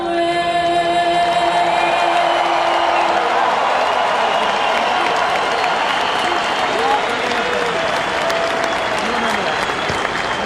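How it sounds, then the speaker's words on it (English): A large crowd at a 2016 rugby union match between the USA Eagles and the Maori All Blacks applauds and cheers loudly and steadily after the national anthems, a dense continuous roar of clapping. "So two very talented young singers singing the national anthems, getting a great reception from the crowd too"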